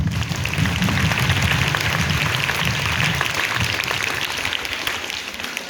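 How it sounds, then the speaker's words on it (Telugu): Audience clapping hard for a former student who became a superintendent, at a school Independence Day speech, a dense, continuous wash of applause from a large crowd that stays loud throughout. "ఆ సార్కి అందరు గట్టిగా క్లాప్స్ కొట్టాలి"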